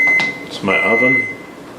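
A kitchen oven gives a steady high beep that starts, stops and resumes over a couple of seconds, loud and close, with a voice talking over it.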